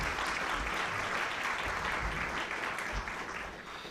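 Sustained applause from a luncheon audience fills the room evenly, a dense wash of many hands clapping at moderate distance, tapering slightly toward the end with no talk.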